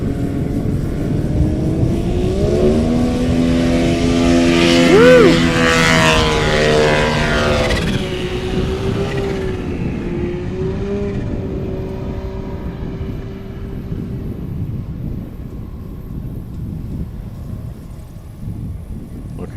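A STOL airplane takes off during a short-takeoff competition in Pinedale, Wyoming, its propeller engine roaring loud and close before fading into the distance, with crowd noise and talk underneath.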